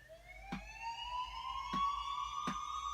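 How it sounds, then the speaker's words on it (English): A synthesized siren sound effect in an FL Studio trap beat: three rising, wailing sweeps with bright harmonics, each starting on a sharp hit, steady and up front with no talk. "I usually like using the siren sound."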